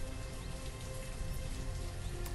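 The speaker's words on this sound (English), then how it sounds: "so it's cold and it's rainy" Steady rain falls throughout in the Banished city-building game, a dense, even hiss of drops with no gaps and no talking over it.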